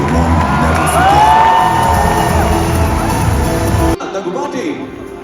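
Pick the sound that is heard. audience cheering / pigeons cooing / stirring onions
audience cheering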